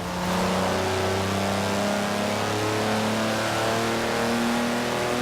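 A Jaguar E-Type's engine in Forza Horizon 4 accelerates under steady throttle, a loud, continuous close-up drone whose pitch climbs gradually with no pauses.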